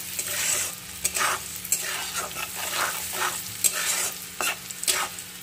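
A tempering of black cumin and chopped onion fries in hot oil for a pabda fish curry, sizzling continuously while a utensil stirs and scrapes the pan in irregular strokes.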